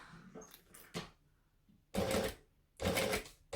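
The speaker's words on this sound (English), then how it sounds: "Stitch forward, stitch back." Home sewing machine stitching a bag seam forward and back, with short bursts of fast mechanical whirring separated by pauses, close and fairly loud, the last two bursts longest.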